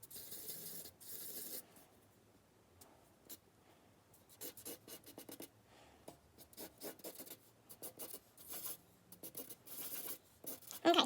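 A marker scratches and squeaks across paper in loose, quick strokes, quiet and close, with short bursts of drawing between pauses and a sharper scrape near the end.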